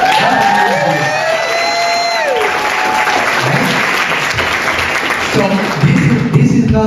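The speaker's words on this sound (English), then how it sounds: "I think we should give them a applause, right?" An audience applauds loudly and steadily throughout, a dense wash of clapping with some cheering and whoops mixed in, with a voice briefly audible near the start.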